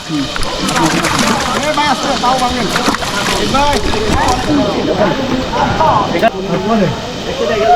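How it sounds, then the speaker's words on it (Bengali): Water sloshes and splashes steadily around a bamboo raft as people climb aboard at Debotakhum in Bandarban's hills, with near, continuous chatter from several voices over it. "এই যে আমরা ভেলায় উঠতেছি এখন"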